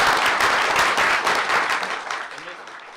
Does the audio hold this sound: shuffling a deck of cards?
no